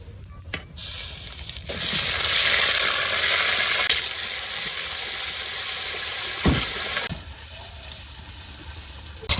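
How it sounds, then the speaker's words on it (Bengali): Ground paste of ginger, garlic and onion with cinnamon and cardamom frying in a pan for chicken curry, a steady loud sizzle rising sharply after a quiet start and cutting off near the end, with occasional stirring scrapes. "বাটা মশলাগুলো সব কষাই নিলাম"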